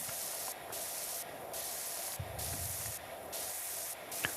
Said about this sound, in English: Spray off the sides here.